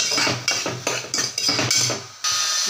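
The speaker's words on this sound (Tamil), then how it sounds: "இது எல்லாத்தையும் நல்லா கலந்து விட்டுடலாம்" Carrots and turmeric being stirred into millet sambar rice in a metal pot, a spoon scraping and clanking in a steady rhythm of about six strokes, close and fairly loud, with no talk.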